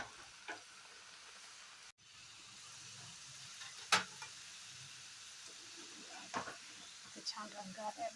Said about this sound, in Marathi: चला आता बालुशाही तळायला घेऊ